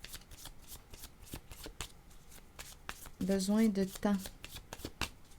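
A deck of cards is shuffled close by for a card reading, a quick riffle burst with light card handling before and after, while someone speaks softly in French.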